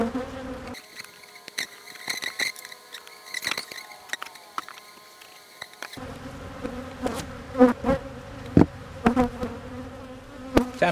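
Honeybees buzz around an open beehive during a late-season inspection, a close, busy droning hum broken by scattered taps and crackles of frames being handled.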